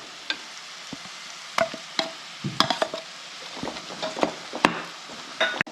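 Chili and coriander powder paste frying in hot oil, with a steady low sizzle broken by irregular, close scrapes and knocks of a spatula as it is stirred; no talking.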